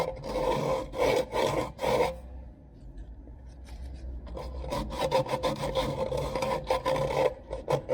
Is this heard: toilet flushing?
no